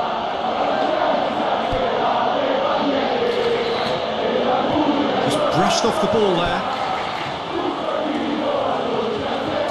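Stadium crowd noise in a Serie A football video game, Roma versus Lazio derby, a steady broad roar of supporters running underneath a commentator's voice throughout.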